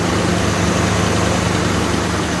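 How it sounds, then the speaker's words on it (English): A 1965 Ford Thunderbird engine idles smoothly at a steady, even rumble, loud and close, with no talking. "No squeaky belts, engines running smooth."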